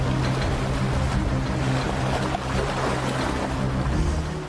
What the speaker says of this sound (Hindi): इसके साथ समुद्र की हलचल भी तेज होने लगी थी।